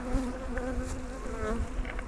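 Honeybees buzz steadily around hives, a close, dense drone with individual bees passing near, with no voices.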